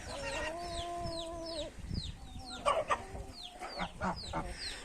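Chickens fighting in a village yard cluck and squawk in agitated bursts, with a long drawn-out call at the start and rapid overlapping cries as they scuffle nearby.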